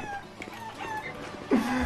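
Chicken clucking in the Granny horror video game, a short burst of fowl-like calls rising near the end over a faint, busy game background.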